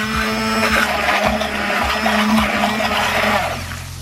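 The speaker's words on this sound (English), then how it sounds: "I am actually gonna use my immersion blender because we really like the egg to be well blended." An immersion blender whirs steadily and loudly as it beats eggs in a home kitchen, a continuous motor drone with slight wobbles as the blade churns the liquid.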